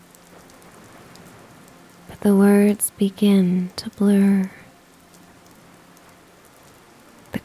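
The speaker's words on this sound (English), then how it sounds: "The crackle of the fireplace and the song of the rain" Steady rain falls on a rainy seaside bookshop setting, a soft continuous patter beneath a calm narrating voice that speaks briefly in the middle, then the rain carries on alone.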